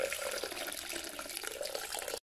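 Water pours steadily into a kitchen cooking machine's bowl, about 650 ml, a close continuous splashing stream that cuts off abruptly at the end.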